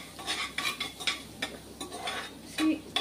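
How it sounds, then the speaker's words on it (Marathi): Garlic is sautéed in hot oil over low heat in a pan, a soft sizzle under rhythmic stirring with a spoon that scrapes and taps against the metal. "तेल तापलं ना की अगदी गॅस कमी करायचा आणि त्याच्यावरती थोडंसं लसूण घालून घ्यायची."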